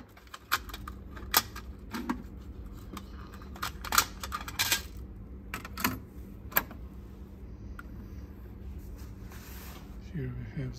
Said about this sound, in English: Now installing the test tape.